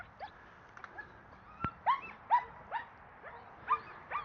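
A nervous, unsettled German Shepherd gives a run of high whimpers and short yips, uneven and close, with one sharp knock partway through and no talking.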